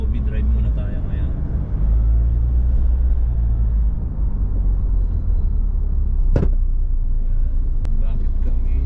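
A car drives along a road heading to an airport, heard from inside as a steady low engine and road rumble, with a couple of brief clicks or knocks.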